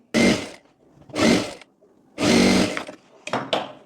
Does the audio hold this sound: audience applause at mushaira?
no